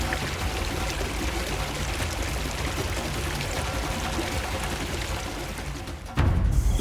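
Wildebeest herd plunging into river water as they cross during a great migration: a continuous loud rush and churn of splashing water, steady throughout and close, with a slight change near the end.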